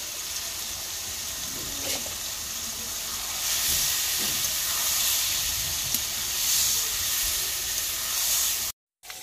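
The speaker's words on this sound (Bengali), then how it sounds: "মাছ ভাজি করা হচ্ছে" Fish frying in a pan makes a continuous, moderately loud sizzling hiss that swells midway and stops abruptly at the very end.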